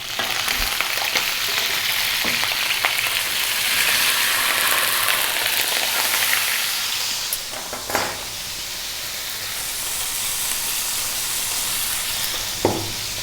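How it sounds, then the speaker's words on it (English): Beef short ribs fry on a stovetop pan over medium heat, giving a loud, continuous close-up sizzle with a few brief clatters as the meat is flipped. "We're going to cook this for about 10 minutes, 10 maybe 12 minutes, medium heat, and I'm going to be flipping it every minute or so."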